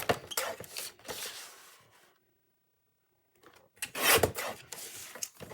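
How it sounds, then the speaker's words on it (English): Cardstock being trimmed on a paper trimmer, close, dry rasping slides of the blade in two bursts separated by a brief pause. "I'm just going to trim this cardstock down"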